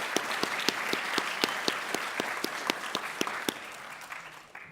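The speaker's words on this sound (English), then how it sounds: "Give them a round of applause." A crowd claps in steady applause at a signing-day ceremony, dense hand claps with sharp individual slaps standing out, sustained and fairly even before tapering off at the end.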